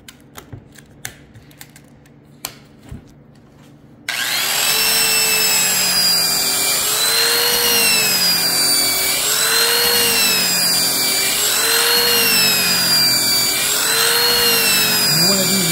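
A sanding wheel with 240 grit runs against aluminum, laying down a brushed finish. It starts after about four seconds of quiet knocks and handling, then holds a loud, steady whir with a gently wavering pitch.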